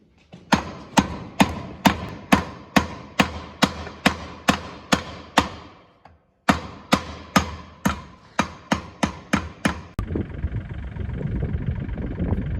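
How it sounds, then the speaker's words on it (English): Sharp, regular hammer blows ring out one after another, about two per second, pausing briefly before resuming, then giving way to a steady mechanical hum. "And now I'll just get a hammer."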